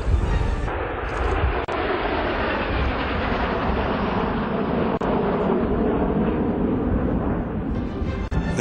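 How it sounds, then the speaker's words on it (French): French aerial patrol jets flying an aerobatic display at a naval parade, a loud sustained roar of jet engines filling the sound, steady and broad with slight swells, no talk. "Des séances acrobatiques présentées par la patrouille aérienne française ont mis fin à"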